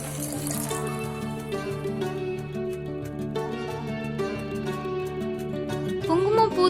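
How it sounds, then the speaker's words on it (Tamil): Chicken stock pours into a spiced masala for Arabian chicken mandi biryani, a continuous liquid splash and trickle that runs steadily for several seconds and swells slightly near the end. "இப்போ சிக்கன் ஸ்டாக்கை சேர்த்து மசாலாவோட நல்லா மிக்ஸ் பண்ணிக்கலாம்."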